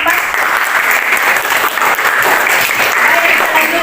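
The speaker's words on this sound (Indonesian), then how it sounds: "Oke, tepuk tangan dulu untuk kelompok 4." A classroom audience applauds a student presentation group, with dense, steady clapping that stays loud and even for the whole few seconds, with no break.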